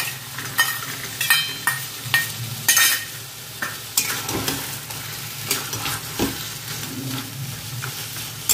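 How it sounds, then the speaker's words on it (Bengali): Chickpeas frying in hot oil with taro leaves, sizzling steadily while a utensil scrapes and stirs the pan in irregular strokes, close and loud, no voices. "এবার আমি এর মধ্যে একদম ছোলাটাও দিয়ে দেবো যাতে ছোলাটাও ভাজা হয়।"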